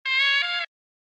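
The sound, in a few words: horn sample with old telephone EQ preset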